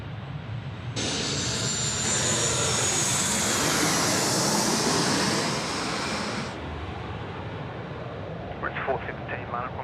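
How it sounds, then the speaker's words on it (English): A Rex Boeing 737 airliner arrives at Sydney Airport at night, its jet roar swelling abruptly, holding loud and broad for several seconds, then cutting back to a distant rumble with faint radio chatter at the end. "We've got our Rex coming in now. This is the Rex 737."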